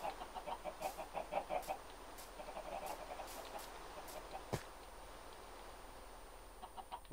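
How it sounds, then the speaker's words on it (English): Minecraft chickens cluck in a steady run of short calls at moderate distance, then a few more later, with occasional clicks in between and no talking. "Lots of chickens over here."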